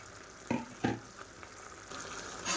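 Leftover idli pieces go into boiling water in a pan and are stirred for a cashew upma. Two soft thuds of food dropping in are followed by a low, steady bubbling simmer and some light stirring scrapes, all close and fairly quiet.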